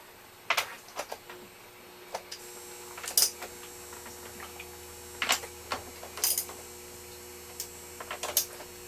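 A wrench snugs down a battery terminal stud on a solar power battery bank. Scattered, faint metallic clicks and clinks sit over a low steady hum, with no speech.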